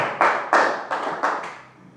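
Church congregation clapping during a sermon, a handful of distinct sharp claps spaced irregularly, each with a short reverberant tail in the room, fading toward the end with no speech over it.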